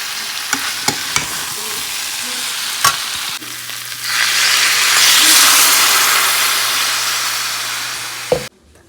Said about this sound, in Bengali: এর মধ্যে দিয়ে দিচ্ছি সোয়াবিন সোয়াবিনটা ভালো করে কষানো হয়